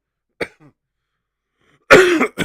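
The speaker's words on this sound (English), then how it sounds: "that comment has just made me cough" A single short cough, then a pause and a louder, harsher cough with a rough throaty tail, close and clear against silence.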